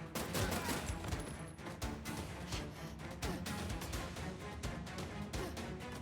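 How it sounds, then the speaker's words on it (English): Gunfire in the video game Terminator 2D: No Fate comes as a dense, rapid barrage of pistol shots and explosive bursts over game music, continuous and busy throughout, with no talking. "I forgot she can't move and shoot the pistol"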